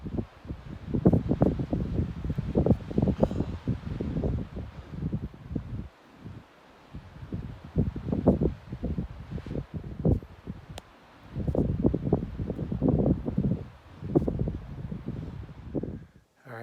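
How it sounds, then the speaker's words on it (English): Wind gusts on a steep mountain trail while climbing Carter Dome in New Hampshire's Wildcats, blowing hard across the microphone in surging waves with brief lulls, close and rough. No talk is heard. "We got some more wind."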